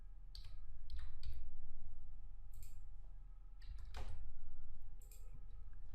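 Computer mouse clicks during a Laravel programming session: several quiet, sharp clicks come in small clusters over a steady low hum, with no talking.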